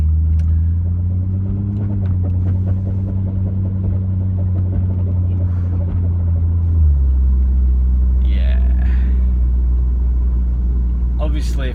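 A car with a 1JZ-GTE engine and IS200 axles, suspected of a differential or drive shaft fault such as a chipped gear tooth, drones steadily while driving, its low hum dropping in pitch about midway.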